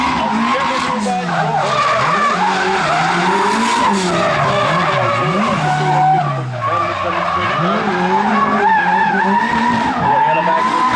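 A drift car slides through a qualifying run at Färila Raceway, tires skidding loud and close over a wavering, revving engine the whole way through, with continuous roaring and squealing.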